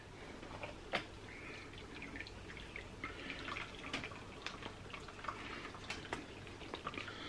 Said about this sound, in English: Let the water drain and then off.